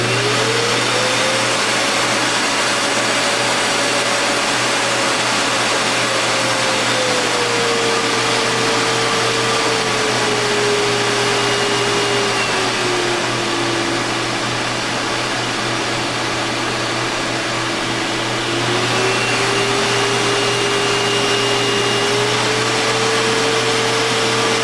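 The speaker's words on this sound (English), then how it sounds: "I'm going to turn the vacuum on, and you probably won't hear me talk" A Prolux QX Series vacuum cleaner motor runs continuously and loudly, its whine stepping up and down in pitch as it switches through speed settings.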